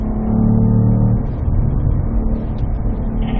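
A Cadillac V-Performance car accelerates on a race track, its engine note loud and close with a strong steady drone that climbs in pitch, without speech.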